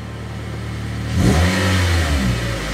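A Toyota Corolla fitted with a Borla exhaust idles smoothly, then gets a sharp rev that swells into a loud, deep exhaust roar and holds before easing off, close up with no talking.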